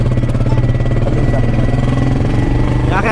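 A cheap motorcycle's engine runs steadily close by, a loud, even throbbing drone without pauses, with a brief voice near the end.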